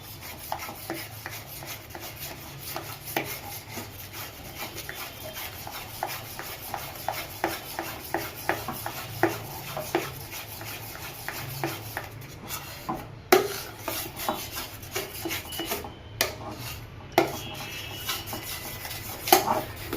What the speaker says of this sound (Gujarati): પાંચ મિનિટ આવી રીતે ધીમા ગેસ ઉપર શેકશો એટલે સરસ માવો બની જાય।